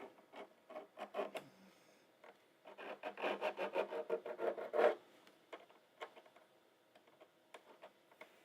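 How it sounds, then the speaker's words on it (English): A metal file rasps a burr off a part in short, uneven strokes, clustered in bursts and then thinning to scattered scrapes, close and fairly quiet with no voices. "Grabbing a file here. Because I think there's a burr on the end of this that does not want it to go on."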